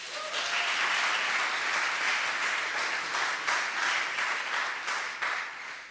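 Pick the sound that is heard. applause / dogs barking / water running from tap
applause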